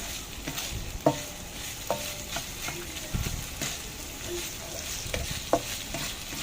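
Minced onion fries in a pan for an eggplant dish, a loud, continuous close sizzle with occasional scraping and stirring knocks.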